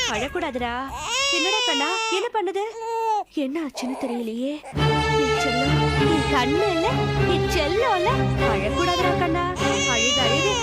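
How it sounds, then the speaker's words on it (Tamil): A baby wails in loud, repeated cries that rise and fall, with a short pause partway before the crying resumes over background music. "ஏன் இப்படி குழந்தை அழுகுது"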